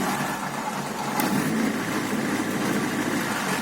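A car engine running on a second-generation CNG (GNC) conversion kit during idle adjustment, with a steady, loud mid-low hum that holds without any clear rev rise, close by and alone.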